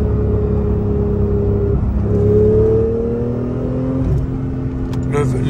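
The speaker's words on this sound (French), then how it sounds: "Quand tu entends ce son, tu sais que c'est une Porsche." A Porsche engine with a sport exhaust hums and revs loudly and up close with a deep, steady drone. The pitch climbs and dips, and a voice speaks briefly near the end.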